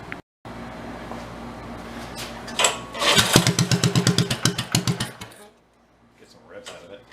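The old engine of an amusement park ride cranks and sputters into life, chugging in rapid rhythmic pulses before cutting out, with people talking around it.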